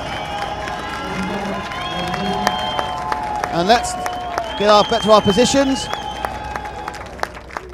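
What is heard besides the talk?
crowd applauding and cheering at RC car championship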